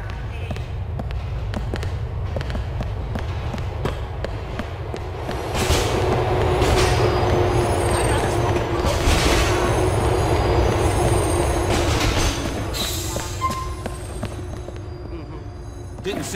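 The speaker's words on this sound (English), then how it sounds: "This is the K train." A K train rolls along the rails in Grand Theft Auto IV: The Lost and Damned, with a steady rumble and rhythmic wheel clacks that grow louder midway, then ease off.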